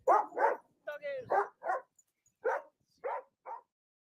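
Dogs bark in a string of about seven short, sharp barks, closely spaced at first and then spread out, fairly near and loud, with no talking over them.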